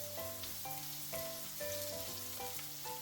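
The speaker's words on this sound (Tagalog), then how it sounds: "Ilagyan ko na siya ng bawang at sibuyas." Garlic and onion sautéing in a pan for chicken feet, a soft continuous sizzle under steady tonal music, fairly faint throughout.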